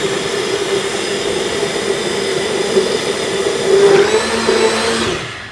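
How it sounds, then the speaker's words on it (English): A hand blender purees Amatriciana sauce in a Rome kitchen, giving a steady, loud motor whir that holds for several seconds and shifts pitch slightly near the end before winding down. "And then we blend with a hand blender."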